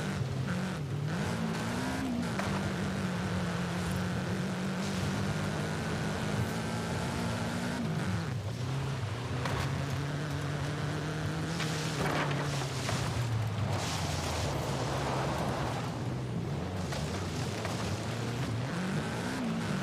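Engine of a car in a racing video game, a loud continuous drone rising and falling through gear changes and throttle shifts across a long stretch of driving, with no talking.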